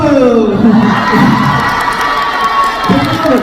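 A fan concert crowd cheering and shouting loudly, with excited high voices swelling and dipping across a few seconds.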